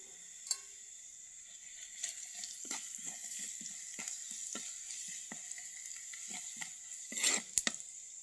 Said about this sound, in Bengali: তো এই যে 5 ফোড়ন দিলাম আর দিলাম তেঁতুল।